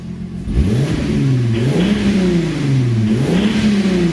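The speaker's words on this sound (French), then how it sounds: "On entend, on dirait un diesel quoi." A close engine revs up and down repeatedly, its pitch rising and falling in waves over a rough, clattery idle.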